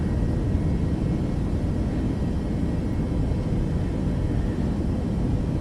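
Jet airliner engines roar steadily during a takeoff roll in Microsoft Flight Simulator 2024, a loud, dense, constant rumble with no talk over it.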